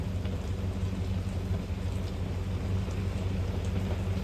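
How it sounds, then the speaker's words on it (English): Steady rain pours down on a 1963 squad car in Mayberry with a dense, continuous hiss and a low rumble underneath, loud and unbroken throughout. "It's a rainy day in Mayberry."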